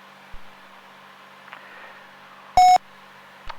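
A short electronic beep sounds once in the cockpit of a Cirrus SR22 aircraft, over a low steady cabin hum, with a couple of faint clicks around it and no speech.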